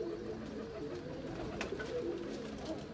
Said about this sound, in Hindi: ये जोड़ों वाले और परवाजी कबूतर हैं, इंतहाई शानदार कबूतर हैं